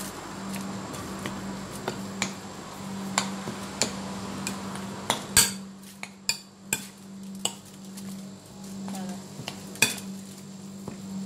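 Ravioli filling with chopped onion mixed in a bowl, a spoon clinking and tapping against the dish in irregular bursts over a steady low hum, with a few sharper knocks and no speech.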